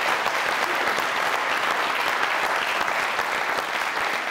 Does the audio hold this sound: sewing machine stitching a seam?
no